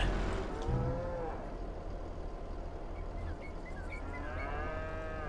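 Cows mooing repeatedly in a cow pen in Farming Simulator 22, several drawn-out calls overlapping near and farther off over a steady low rumble of machinery.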